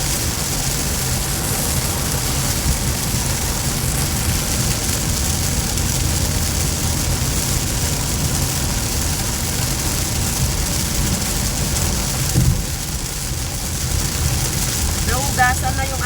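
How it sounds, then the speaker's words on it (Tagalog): Heavy morning downpour on the way to work, a steady dense broadband hiss of rain holding evenly throughout, with a voice talking over it. "Grabe yung ulan."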